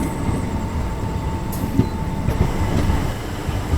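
The Prayagraj–Dadri summer special train sits at Bindki Road station at night, with a steady close rumble and faint metallic clicks throughout, unbroken by voices.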